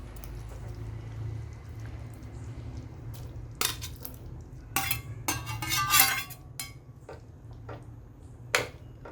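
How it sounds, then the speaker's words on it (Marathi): Fried paneer pieces drop into a pan of boiling gravy with a few sharp metallic clinks and scrapes of a spoon over a steady low kitchen hum. "आपण हे फ्राय केलेले पनीर याच्यात टाकून देऊ"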